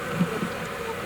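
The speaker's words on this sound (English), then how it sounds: "Man, you can hear them working up a buzz." African honeybees buzz inside a hive being smoked with elephant dung, a dense close drone of agitated insects lasting about a second.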